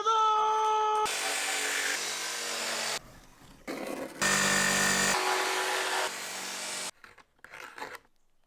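A power saw cuts pieces of wood for a van repair in several separate runs of one to three seconds each, harsh and loud, broken by short quiet gaps and a final fading rasp.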